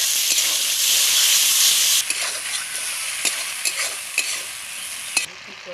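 Tomato goes into a sizzling pan of frying koi fish curry in oil. The steady frying hiss is joined by repeated clicks and scrapes of stirring, and it stays loud throughout with no talk.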